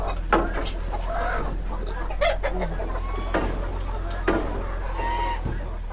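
Chickens cluck and squawk in short bursts around a yard, several birds calling close by over a steady low background hum.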